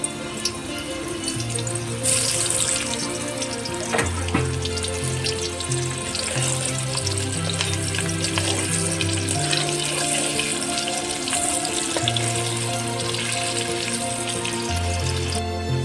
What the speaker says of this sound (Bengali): বড়িগুলি ভেজে নেব আলুগুলি ভেজে নেব